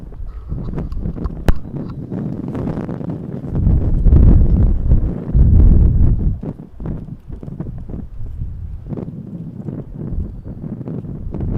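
Gusty wind batters the microphone outdoors at Montréal-Trudeau International Airport, producing loud low rumbles that surge and ease, with brief knocks in between.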